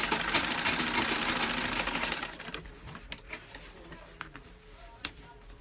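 A sewing machine stitching the back neckline of a princess bustier runs in a steady, loud whir for about two seconds, then stops, leaving quieter handling clicks and a few taps.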